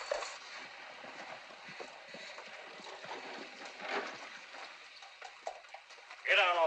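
Horses' hooves clopping steadily on the ground in a 1941 Western outlaw and sheriff scene, a continuous busy patter of mid-distance hoofbeats, with a voice breaking in loudly at the very end.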